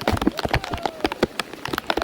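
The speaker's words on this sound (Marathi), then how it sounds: "परत पाऊस वाढायला सुरुवात झाली" Rain falling at Rangnagad Fort in Sindhudurg during a monsoon trek, close irregular patters and drops striking a surface in quick bursts, with no one talking.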